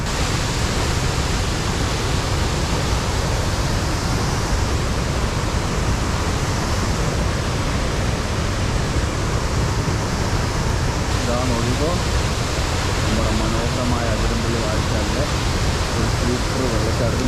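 Athirappilly waterfall pours down forcefully, giving a loud, continuous broadband roar that never lets up.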